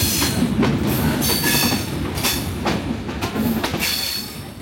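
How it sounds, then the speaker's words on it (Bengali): A train runs through open village fields in Bangladesh, its steady rumble and rhythmic clickety-clack of wheels on rails carrying loud and continuous throughout, with faint high squeals over the rolling noise. "এবার আনসারবাড়িয়া ছাড়িয়ে ট্রেন চলেছে আমার জন্মভূমি পাকা গ্রামের মাঠ দিয়ে।"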